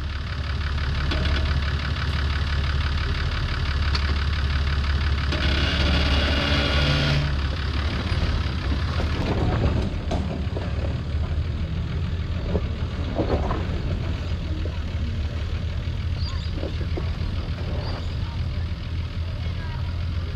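A car engine idles and revs under load during a hill start, a steady mid-pitched drone with rising throttle and occasional knocks, while people talk over it throughout.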